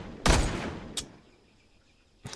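Gunfire at an enemy in the hunting survival game Survival Africa, one loud sharp shot followed by a shorter crack a moment later and a third shot at the end, each with a brief echoing tail.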